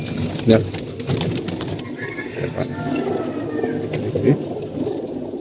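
Pigeons coo softly and repeatedly nearby while a person talks over them, with faint rustling in the background.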